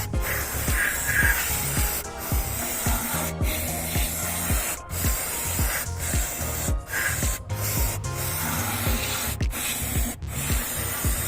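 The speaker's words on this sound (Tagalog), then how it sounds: "dito ay mag-spray tayo ng kanyang" Cleaner sprayed onto a car's solenoid during engine cleaning, with sharp hissing bursts of spray repeating in quick succession alongside rubbing and handling noises, close up and with no talk.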